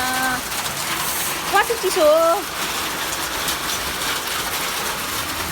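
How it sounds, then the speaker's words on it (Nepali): Steady rattling patter of hailstones falling on a balcony nearby, with someone speaking briefly over it. "हेर्नु त यहाँ असिना बाल्किनीमा"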